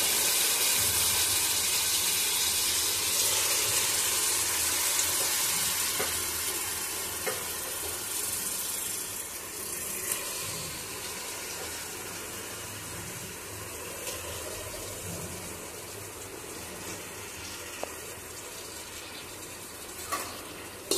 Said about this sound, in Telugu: పసుపు వేగాక ఇప్పుడు చికెన్ వేసుకుందాం.